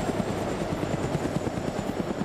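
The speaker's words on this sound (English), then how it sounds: "So we'll know if the chopper spots anyone because it'll start actually shooting at him." A helicopter flies in a military survival video game, its rotor chopping in a steady, fast rhythm, loud and close throughout with no talking.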